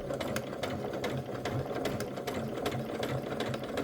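A sewing machine stitches a pumpkin-patch mini quilt slowly with a special presser foot, giving a close, steady rapid needle rhythm over a constant motor hum, with no talking.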